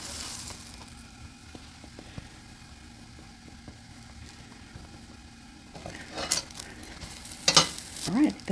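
Slider buns toast in onion butter left in a pan, a low steady sizzle underneath with light clicks, followed by louder handling and scraping sounds near the end, no talking.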